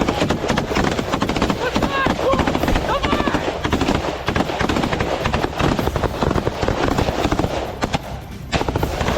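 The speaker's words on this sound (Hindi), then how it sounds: "यूक्रेन की स्पेशल फोर्स मशीन गन से गोलियां चलाते हुए आपको आगे दिखाई देंगी" Sustained machine gun fire from Ukrainian special forces in combat against Russian positions, rapid dense bursts continuing almost without pause, loud and harsh, with a voice talking over it.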